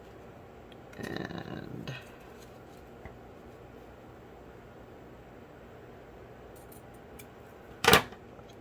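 Scissors snip through a strip of paper for a junk journal, a brief rustling cut lasting about a second, followed later by a single sharp click, close up in a quiet room.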